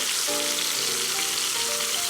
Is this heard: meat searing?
yes